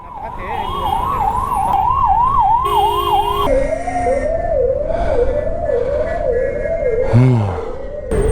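An ambulance siren wails loudly and close in Bengaluru traffic, cycling through rapid rising-and-falling yelps that shift in pitch, with horns and engine noise around it.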